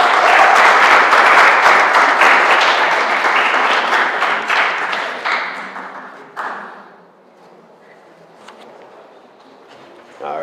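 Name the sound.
audience applause for a graduate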